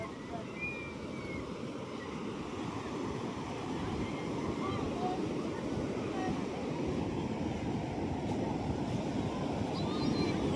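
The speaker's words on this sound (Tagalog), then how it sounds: "yung dagat nila is nakakatakot. Kasi puro malalaki yung alon." Large ocean waves surge and break continuously on the wide Pacific shoreline of Bagasbas beach, a steady broadband roar with wind buffeting the microphone throughout.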